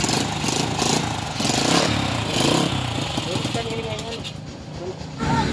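Motorcycle engine with a newly fitted exhaust running loud and close, a steady rough drone with slight rev changes throughout.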